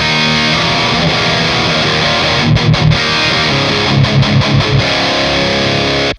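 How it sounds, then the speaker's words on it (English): High-gain distorted electric guitar through a Marshall JMP1 rack rig capture preset on a Nano Cortex, played as loud sustained chords with a few quick palm-muted chugs, alone with no talk. "Let's go to preset 2, which is a preset from my JP1 pack, Marshall JMP1 rack rig. This is a high gain tone"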